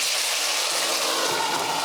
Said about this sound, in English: We're gonna put some hot water in the pan